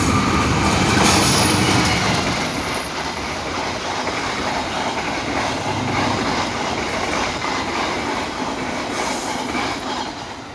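Airlangga Ekspres passenger train KA 7050 hauled by a CC203 diesel locomotive passes close by with a loud, steady rumble and rolling rail noise, wheel clatter and faint squeal running throughout, swelling early then holding level.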